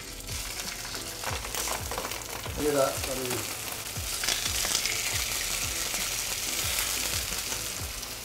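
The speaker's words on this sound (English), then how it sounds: "Shiny, smooth side down into the oil, lay it away from yourself, and you should hear a sizzle" Chicken breast laid into hot oil in a pan sizzles and crackles steadily and close by, a loud continuous fry with brief spattering bursts, while a voice speaks briefly over it.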